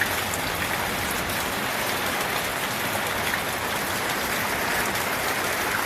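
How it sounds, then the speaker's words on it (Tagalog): Heavy rain pours down in a dense, continuous hiss, steady and loud, with no voices or other sounds over it. "sobrang malakas ng ulan"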